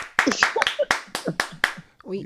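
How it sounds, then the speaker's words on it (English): A few sharp hand claps from a small studio audience on a morning talk show, scattered under steady overlapping conversation. "let's clap for that."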